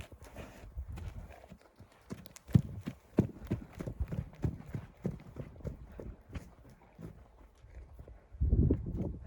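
Hooves of an 8-year-old mare clop steadily on hard ground at a walking pace, close by, with a muffled thump near the end.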